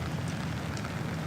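Rain falls on a golf course during a tournament round, a steady, soft patter and hiss that stays even throughout with no other sounds.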